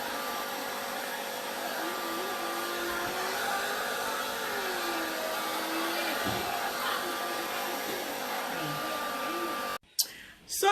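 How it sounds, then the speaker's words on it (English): A blow dryer brush drones steadily and fairly loud while drying hair, holding a constant whirring tone before cutting off near the end, with faint movement around it. "So now I'm done with my done blow drying my hair using my blow dryer brush."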